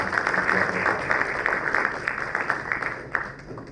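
An audience at a Malaysian university awards ceremony applauds steadily for several seconds, a dense, even clatter of many hands.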